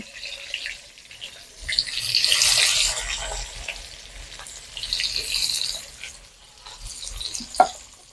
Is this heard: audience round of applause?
no